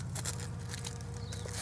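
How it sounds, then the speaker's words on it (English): Bees buzz steadily around African horned melon plants in a garden, a close, continuous low drone with a few faint higher flickers over it, no talking. "Listen to the bees."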